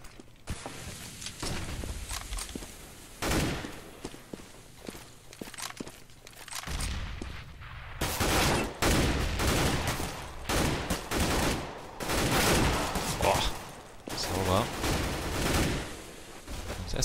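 Gunfire from a Counter-Strike match on de_dust, with dense automatic bursts and sharp single shots spread across the stretch, some footsteps and mechanical clicks between volleys, loud and close.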